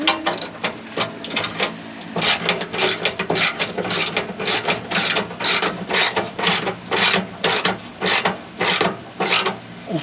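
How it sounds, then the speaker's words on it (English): Ratchet wrench tightening speed nuts on a 1964 Ford F100, a steady run of close, crisp clicking strokes repeating in quick bursts over a faint background hum. "Speed nuts do not like to be over tightened."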